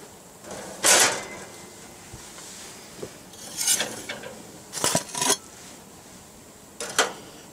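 Cooked stuffed mushrooms and pizza being lifted off barbecue grilling stones, giving a few brief, sharp metallic clinks and scrapes spaced over several seconds, with quiet outdoor background between them and no talking.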